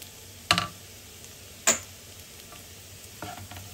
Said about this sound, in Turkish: Onları da şöyle bir harmanlıyorum.